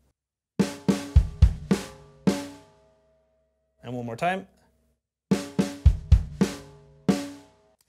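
A drum kit plays the second rhythm of a groove, a quick cluster of crisp hits, then a pause with a short spoken phrase, then the same cluster repeated, close and loud.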